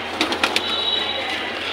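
Breeding pigeons coo in a loft, a few quick soft coos in the first half-second, then fade into a steady background hiss.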